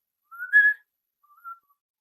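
High, clear whistling imitates a pan flute melody from an upbeat summer driving song, sounded as two short phrases, a louder warbling one and then a softer one, with silence between them.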